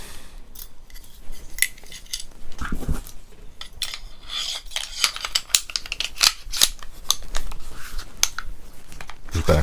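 Sharp metallic clicks, snaps and slides come close and irregular as an ATI GSG Firefly pistol is reassembled, with parts clacking together throughout.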